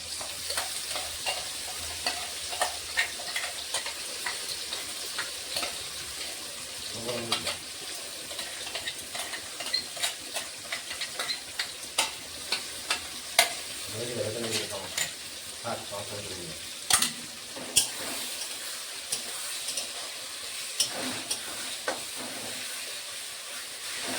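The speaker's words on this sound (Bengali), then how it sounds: "আগে থাকতে বেটে রাখা মশলাগুলো দিয়ে দিলাম।" Ground spice paste frying with duck meat in a pan, with a continuous sizzle broken by repeated scraping stirs and clinks of a spoon and occasional louder crackles, close and fairly loud throughout.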